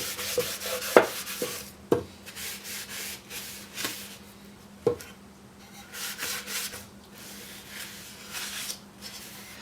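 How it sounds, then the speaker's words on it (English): A cloth rubs over the wooden cabinet of an Aerola SR radio in repeated close strokes, a soft swishing rhythm broken by a few light knocks of contact with the wood, no voices. "now we wipe her down"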